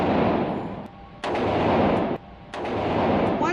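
Bursts of gunfire from an armed group's training exercise, a dense, loud crackle of rapid shots sustained for stretches with brief pauses between volleys, heard alone without talk.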